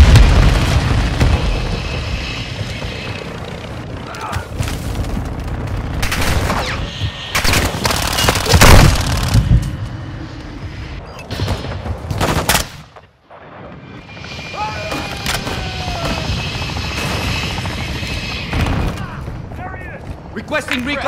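Dense gunfire and heavy booming explosions from Call of Duty: Modern Warfare II at Zaya Observatory, with repeated loud bursts and rumbling blasts, a brief lull near the middle, then more fire and game voice chatter underneath.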